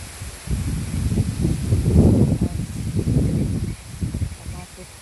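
Strong typhoon wind gusts through a garden of broken plants, blowing loose trash around; a loud, rough rumbling roar buffets the microphone, swelling and easing in irregular surges.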